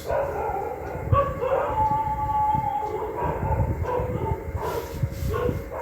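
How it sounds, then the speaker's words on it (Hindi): Dogs in an apartment building bark and howl at a middle distance, in repeated uneven bursts over a busy background hum. "इतने लोगों ने कुत्ते यहाँ इतने पाल रखे हैं, भाव भाव भाव आवाज आती है"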